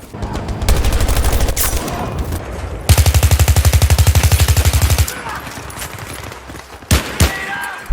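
Bursts of rapid automatic gunfire from Battlefield 2042 Portal, long loud volleys with single shots between.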